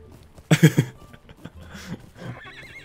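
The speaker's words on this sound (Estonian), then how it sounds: "Ta ei tahtnud hüpata. Tegi ihaha." A horse in the Lord of the Rings Online video game lets out one loud, near, shuddering neigh, followed by softer snorts and hoof sounds, with faint game tones at the end.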